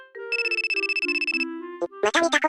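Phone ringtone for a call from an unknown number, a bright repeating electronic melody playing for over a second in quick pulses, then a short voice speaks.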